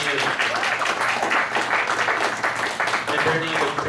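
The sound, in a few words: audience applause at anime convention game show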